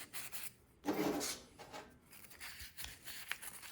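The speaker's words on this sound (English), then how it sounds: "I just got a wire brush." A wire brush scrubs lawn mower carburetor parts, giving irregular close scratchy rasping strokes at a low level, with no talking.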